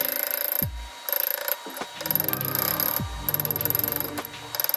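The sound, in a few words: small ball hammer tapping metal ring on mandrel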